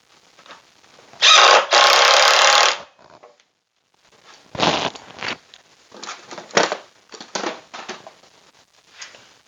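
A power driver runs the last screw into a wooden table saw sled, giving a loud, close whirring burst of about one and a half seconds, followed by scattered handling clatter and knocks.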